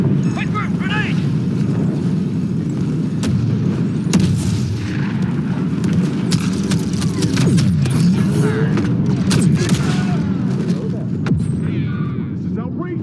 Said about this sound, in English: Quick move, grenade!